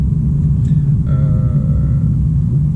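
A deep, steady exhaust rumble from an idling Alpine Legend GT sports car, loud and close, with a faint intake whine rising briefly in the middle.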